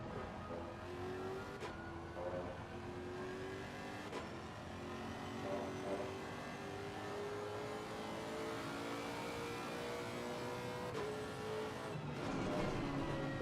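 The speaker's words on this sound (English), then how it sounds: "Wow, this car sounds epic." Race car engine in Assetto Corsa Competizione on the Imola circuit, a steady loud drone with rising and falling revs and gear shifts across the whole stretch, no talking.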